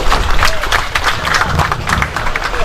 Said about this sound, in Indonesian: Tepuk tangan untuk rakyat Samosir